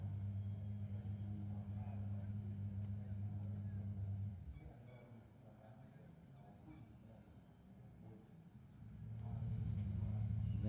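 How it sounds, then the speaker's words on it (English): A GT race car at the Macau GT Cup rolls into parc fermé during the 66th Macau Grand Prix, its low engine drone steady, dipping quieter midway, then swelling back near the end. "There's Bamba's car, number 98, going into Parc Fermé."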